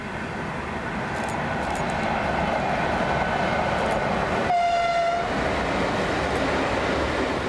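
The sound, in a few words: Steamrail Victoria steam train passing, Eureka Express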